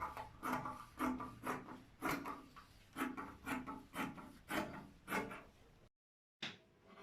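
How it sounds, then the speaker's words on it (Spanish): Scissors cut through fabric for Bermuda shorts with steady, close rasping snips in a regular rhythm. The sound breaks off briefly near the end, then resumes. "Comenzamos a cortar."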